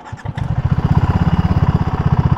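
A BSA Gold Star 650 single-cylinder motorcycle fires up and settles into a steady, loud, close thumping idle with an even pulsing beat.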